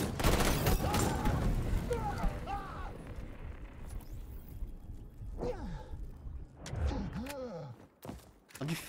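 Gunfire from the video game XDefiant crackles in rapid bursts near the start, then quieter shots and game effects follow, with a player's voice sighing and murmuring over the action.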